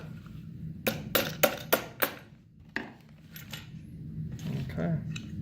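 Hammer strikes on a metal bracket during a TK bracket build: a quick run of five sharp metallic taps, then a couple of lighter knocks, close by over a low hum.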